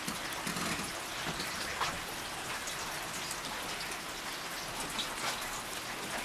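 Heavy rain drums on a tin roof at a newly moved-into house before dawn, a dense, steady hiss of countless drops without pause.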